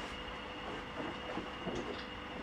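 A diesel locomotive engine runs at a steady idle, giving a constant, fairly close rumble with an even mechanical drone and no speech over it.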